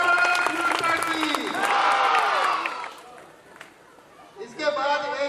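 An audience at an Independence Day school celebration claps for a young nursery-class student going on stage, a dense burst of applause mixed with crowd chatter and voices that thins out, then a short spoken phrase.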